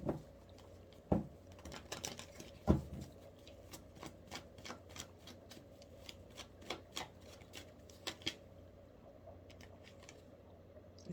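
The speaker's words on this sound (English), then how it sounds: "Was he bisexual? Shuffle a card." Tarot cards being shuffled by hand in irregular bursts of crisp riffling and flicks, with a few louder slaps, close and alone without talk.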